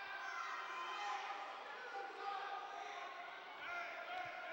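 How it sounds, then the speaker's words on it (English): A crowd of fans cheers and shouts at a high school regional wrestling match, Davison against Carman Ainsworth, a broad steady roar in a gym heard under ongoing commentary. "Fans trying to cheer him on here."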